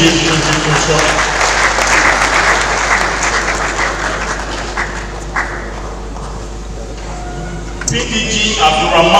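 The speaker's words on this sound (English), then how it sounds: "Another round of applause for PDG's contribution." An audience at a district leadership assembly gives a round of applause that starts full, tapers off into scattered claps and murmuring, then picks up again at the end.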